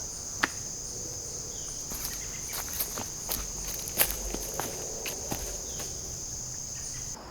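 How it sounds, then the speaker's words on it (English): Outdoor forest ambience: a steady chorus of crickets and insects with a high constant trill, scattered soft footsteps or twig snaps, and no voices. "I have copied out the sound recording that we made in the forest"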